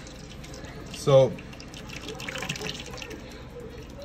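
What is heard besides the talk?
pouring watery puppy food into a bowl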